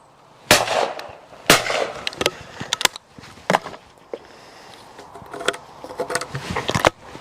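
Browning Ultra shotgun fires at clay targets outdoors, with several sharp loud reports spaced a second or more apart amid smaller clicks and handling noise, and no talking.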